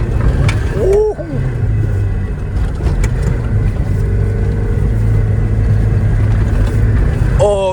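A Porsche 914-6 being drifted on a rally event, its engine droning loudly and steadily with mechanical rattles, revving pitch sweeps and occasional tire chirps, close and continuous.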